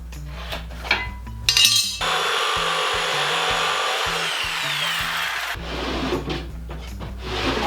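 A power tool cuts notches into a wooden shelf for a narrow garage workbench, with a sustained loud whine of several seconds framed by knocks and clatter of wood before and after.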